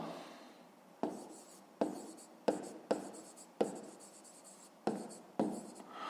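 A pen writes on paper during a fifth-grade maths exercise, with close, distinct scratching strokes that come in about eight short bursts separated by brief pauses. No one speaks.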